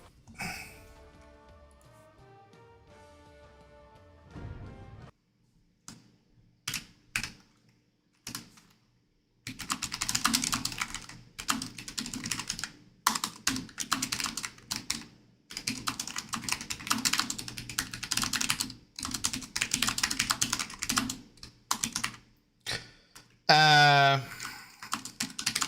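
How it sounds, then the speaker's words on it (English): A computer keyboard is typed on in bursts of rapid, close clicking with pauses between them, while a voice talks at times and a brief musical tone sounds near the end. "How loud is that typing?"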